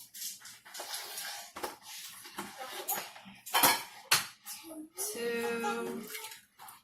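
Eggs knock against the rim of a mixing bowl amid clattering utensils and dishes, sharp cracks landing at irregular intervals close by, with a sustained whir near the end.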